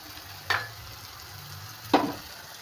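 Chopped onions and tomatoes sauté in a pan for a prawn dish, a faint low sizzle broken by two soft stirring scrapes, quiet and close with no talk.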